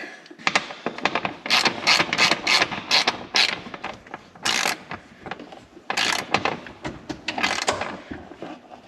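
A ratchet tightens a hose clamp on the intake of a Can-Am Maverick X3 while an EVO V-Flow is installed, giving repeated bursts of sharp, close clicking with short pauses between strokes.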